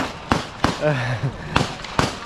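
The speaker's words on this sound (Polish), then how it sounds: "strzelają, strzelają, strzelają." Sharp, distant gunshots at an IPSC practical shooting competition pop in a loose sequence of about five reports, with a person speaking in between.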